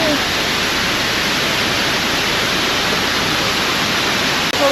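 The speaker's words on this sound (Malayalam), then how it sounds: "വലിയ വെള്ളച്ചാട്ടം" A steady, loud broadband roar of rushing water fills the whole stretch without a break, like a big waterfall heard up close.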